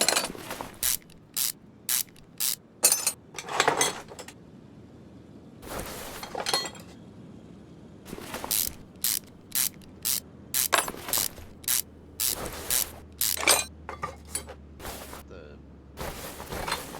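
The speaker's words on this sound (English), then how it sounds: "the amount of times I've had to lift this vehicle" A car lift raises a vehicle in Car Mechanic Simulator 2021, with a series of sharp mechanical ratcheting clicks in regular bursts, close and loud, separated by brief pauses and a low steady hum.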